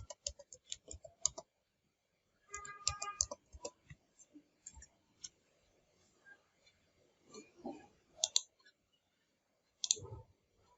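Computer mouse clicks and keyboard typing during a coding session in Visual Studio Code, sparse bursts of sharp close clicks and keystrokes separated by quiet pauses.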